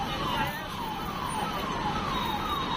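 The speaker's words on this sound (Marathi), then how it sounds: "हे बघा अग्निशमन दलाची गाडी पण चालली" Fire engine siren from a fire brigade truck passing through a city street during a municipal encroachment removal drive in Chhatrapati Sambhajinagar, a repeating wailing sweep heard at moderate distance over steady traffic noise.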